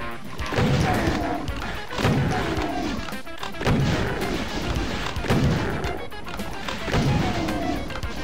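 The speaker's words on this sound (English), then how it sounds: "Bring them into the middle so we can take care of them with a super shotgun" Super shotgun blasts boom at steady intervals about every second and a half in Doom's Plutonia Experiment, each heavy shot followed by its reload, with imps being cut down amid constant loud action.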